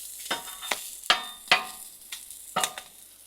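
Onions frying on a griddle for burgers, a soft sizzle broken by about six sharp metallic scrapes and taps of a spatula, close and fairly quiet, with no speech.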